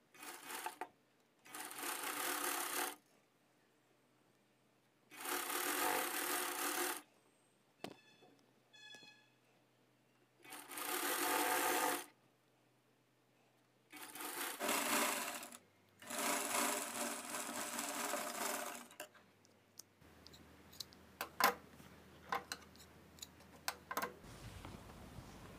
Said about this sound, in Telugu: దాని తర్వాత థ్రెడ్ పక్క నుంచి కుట్టు స్టార్ట్ చేసుకుంటూ వచ్చేయాలి.